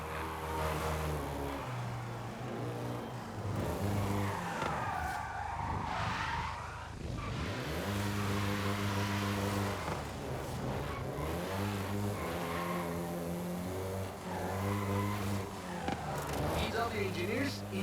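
A Volkswagen Golf GTI races in Forza Horizon 5: a buzzing engine climbs through the revs and drops at each gear change, with tire squeal and skidding mixed in.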